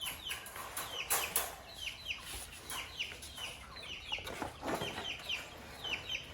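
Chickens cluck softly and repeatedly nearby, with short overlapping calls scattered across a quiet background and a few faint rustles.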